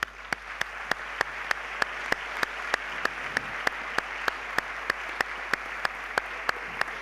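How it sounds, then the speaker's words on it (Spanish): An audience at a diabetes research event claps for two researchers as they come on stage: steady, dense applause runs throughout, with sharp regular ticks punctuating the clapping. "las doctoras Ana Novials y Rosa Gasa, para las que pido este fuerte aplauso."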